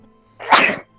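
A single sharp burst of a sneeze, close and fairly loud, lasting under half a second against near silence.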